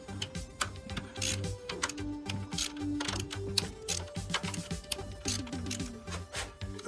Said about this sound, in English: So next step is loosen the bolts here and then take the cam tray bolts out for each bearing.